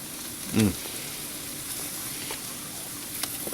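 Venison steak on a grill gives off a faint, steady sizzle, with one brief louder burst early on and a couple of small ticks.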